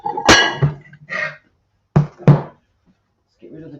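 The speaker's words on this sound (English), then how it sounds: "let's get rid of the chopping block." A chopping block is moved and knocked in a kitchen, giving several sharp, close wooden knocks separated by short pauses, with a brief voice between them.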